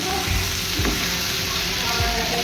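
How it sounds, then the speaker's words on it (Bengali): Potatoes fry in a wok with spiced meat, giving a steady close sizzle with a few soft stirring scrapes and knocks, and no voices. "এবার আমি একটু কড়াই আর আলুগুলো দিয়ে দিলাম।"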